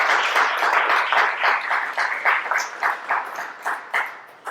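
Audience applause at a community celebration, a dense burst of many hands clapping that gradually thins into scattered claps, fairly loud and close.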